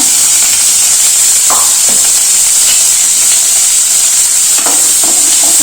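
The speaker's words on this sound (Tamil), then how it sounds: "சும்மா ஒரு அரை ஸ்பூனுக்கு கொஞ்சம் வெங்காயம் வதங்கிறதுக்கு கொஞ்சம் எண்ணெய் ஊற்றிக்கிறேங்க" Onions sizzle in half a spoon of hot oil for a bitter gourd curry, with a steady loud frying hiss and a few faint stirring clinks, and no talk.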